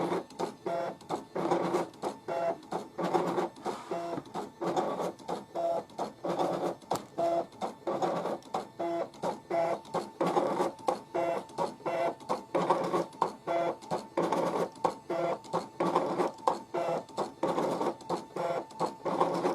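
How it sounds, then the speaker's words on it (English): A Brother DC200 DesignNCut home cutting machine runs a line-emboss job, giving steady, rapid mechanical whirring and clicking pulses as the carriage moves back and forth, close and continuous for about twenty seconds with no talking. "we want to change our operation this time to Line Emboss. And once it's ready, hit start."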